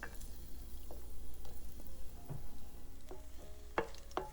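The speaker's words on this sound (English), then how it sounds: "When the oil is hot, add ginger slices in." Ginger slices sizzle in hot cooking oil with dried chili and peppercorns in a pan, a steady close crackle with occasional sharper pops and light utensil clinks.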